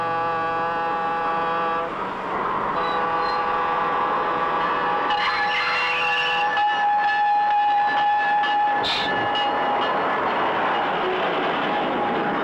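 A 1950s train running on track across Ohio, its horn sounding in long sustained tones over a steady rolling rumble, fairly close and continuous with no talk.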